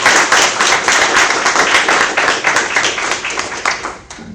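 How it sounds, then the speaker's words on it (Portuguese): A small group of people clap briskly and loudly at the end of an online broadcast, the individual claps distinct and dense before tapering off near the end. "vou pedir uma salva de palmas aí para os três."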